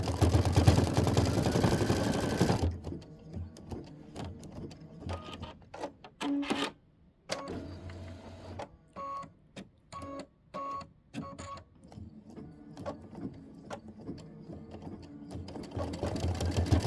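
A Kimberbell embroidery machine stitches a mittens block on fabric, its rapid mechanical needle chatter running in bursts with short pauses, close and steady, after a louder stretch of noise at the start.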